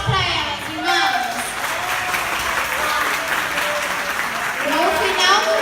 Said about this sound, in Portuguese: salva de palmas para elas, irmãs